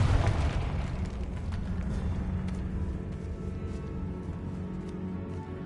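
A rumbling Confringo explosion spell from Hogwarts Legacy fires off with a strong initial blast that decays into a long, dense roar, no speech over it.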